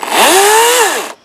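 An EGO battery chainsaw revving up when the trigger is pulled: a loud, close electric whine that rises in pitch, holds for about a second, then drops and cuts off sharply.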